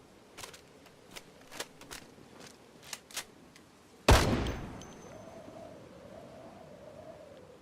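A gun fires in the Project Zomboid video game: a string of sharp, separate shots at uneven intervals, then one much louder blast that rings out and trails off into a wavering tone.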